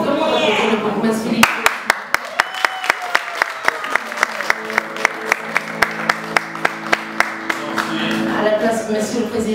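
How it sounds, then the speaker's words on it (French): An audience at a Brussels announcement of a concert claps in steady rhythmic unison for several seconds, sharp regular beats under a speaking voice and background crowd noise. "pour applaudir Monsieur Mampaka pour votre mot."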